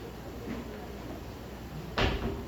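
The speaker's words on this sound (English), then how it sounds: "can we please close the door so nothing happens?" A door pulled shut in a room just before a recording begins, landing as one clear thud near the end of a quiet, faintly noisy stretch.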